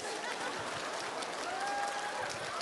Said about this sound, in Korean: 박수 쳐요. 박수.